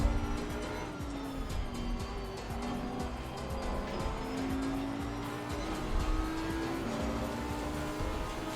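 Race car tyres squeal and skid in Assetto Corsa Competizione during a crowded grid race, a sustained whining screech over engine drone for several seconds, with no talk.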